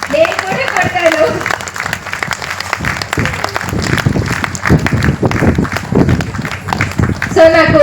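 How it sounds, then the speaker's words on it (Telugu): An audience claps after a dance performance at an Ugadi festival gathering near a pyramid, dense steady clapping filling the space while a voice speaks briefly at the start and end. "ఇంత చక్కటి పర్ఫార్మెన్స్ కి వీళ్ళకి అందరికి ఒక్కసారి చేతులెత్తి మరి చప్పట్లు కొడదామా లేదా?"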